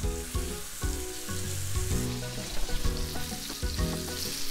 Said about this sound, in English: So once the pan is heated, then I'm gonna put in the patty.